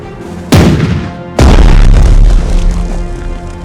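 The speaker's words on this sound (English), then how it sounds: "Finally, we get to use our guns." Naval guns firing in the Strategic Mind: The Pacific strategy video game, two heavy booming blasts about a second apart, each followed by a long rumbling decay, loud and with no voices.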